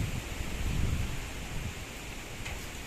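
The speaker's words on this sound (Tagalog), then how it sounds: "grabe hangin habagat alakas" Strong habagat monsoon wind gusting behind a house, a steady roaring rush with heavy low buffeting against the microphone, unbroken throughout with no voices.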